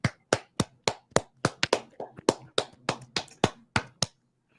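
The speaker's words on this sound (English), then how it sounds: "Let's clap it up." Sharp hand claps at the close of a scripture study class, about fifteen crisp, close claps in a fairly steady rhythm over several seconds, with no talking.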